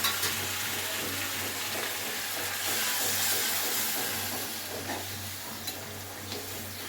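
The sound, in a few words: hot water added to sizzling chicken in pan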